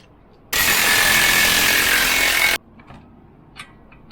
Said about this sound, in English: we're going to weld these tabs on so that these new U-joints can't come out